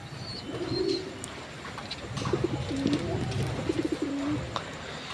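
Pigeons bred for racing or show make soft, repeated throaty coos in a loft, with a few scattered cooing phrases over a steady low background murmur and faint chirps.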